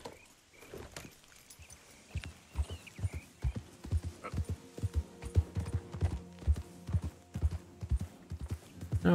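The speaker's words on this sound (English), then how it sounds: "It bothers me that the horse only comes partway to you." Clip-clop of a horse's hooves in Red Dead Redemption 2, a rhythmic run of hoofbeats growing louder and denser as the animal approaches, with a brief neigh-like sound early on.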